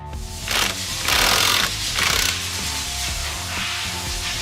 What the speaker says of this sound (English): Using a 1 3/16 socket and an impact driver, remove the left-hand thread center clutch nut.